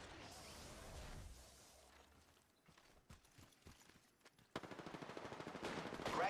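Rapid automatic gunfire rattles in a fast first-person shooter match, a short burst early on, then scattered shots and a loud sustained stream of rounds near the end.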